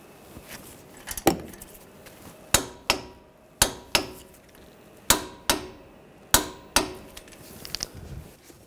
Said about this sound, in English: we'll torque these bolts to 81 foot-pounds